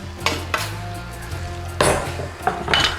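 Onion tipped into a pan for dhal, bringing a few loud metallic clanks and scrapes of a utensil against the pan over a soft sizzle, close by and without voices.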